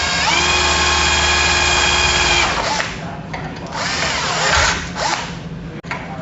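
A power drill whines steadily at high speed, then slows and revs in shorter bursts as it bores, close and loud.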